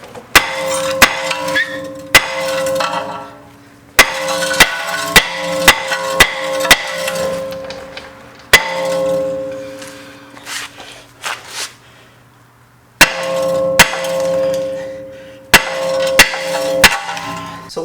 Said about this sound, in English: you're going to be hammering as hard as you can on this brake rotor